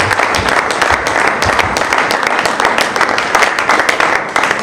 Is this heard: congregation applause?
yes